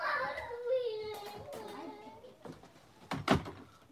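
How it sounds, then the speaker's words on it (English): A house door shuts with a single firm thud near the end, after a woman's and children's voices talking close by. "Can I close the door?"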